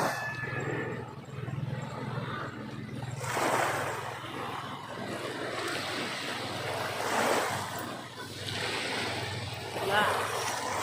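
Ocean waves wash onto a beach, with a steady surf roar that swells in broad surges every few seconds, carried by wind noise and a low background hum.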